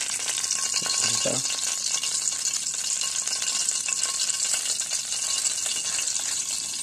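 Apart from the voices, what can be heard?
frying freshly caught fish in a pan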